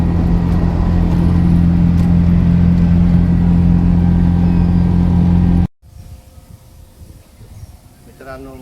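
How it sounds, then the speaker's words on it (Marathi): A car travelling on a smooth road near Mandali, Nashik district, on a pilgrimage tour, with a steady, loud in-cabin engine and road drone, then an abrupt cut to a quieter scene where a person talks. "असा त्या रोडवर आपली गाडी चालती"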